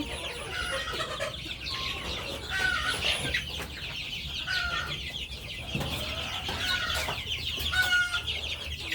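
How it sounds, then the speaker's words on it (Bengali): Native desi chicks being raised together, giving soft, repeated clucks and peeps at moderate distance over a quiet background, with no talking. "এখানে কিছু দেশি মুরগির বাচ্চাও আছে যেগুলো আমি একসাথে বড় করছি"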